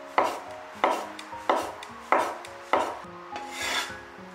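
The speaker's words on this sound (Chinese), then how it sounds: "再来准备两个口蘑，给它切成薄片" Button mushrooms are sliced thinly with a knife on a board, giving five or six evenly spaced, crisp chops close by, each followed by a short scrape, with no voices.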